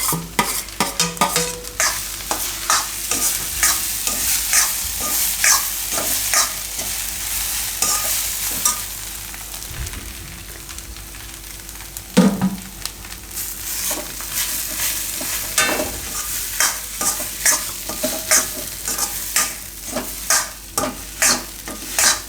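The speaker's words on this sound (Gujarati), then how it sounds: "બધા બટેટા આપણે એમાં નાખી દઈશું બાફેલા. આ રીતનો એકદમ છૂંદો થઈ જવો જોઈએ બટેટા એમ." A spoon scrapes and knocks steadily in a pan as boiled potatoes are stirred and mashed into a hot spiced mixture for aloo uttapam. The repeated taps come over a soft background sizzle, close by and without talk.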